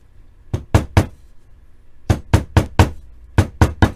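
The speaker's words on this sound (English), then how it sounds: "We're going to hammer this together." Sharp hammer blows on nylon-reinforced leather drawstring pieces, struck in three close bursts of three, four and three evenly spaced knocks with short pauses between, loud and near with no talk.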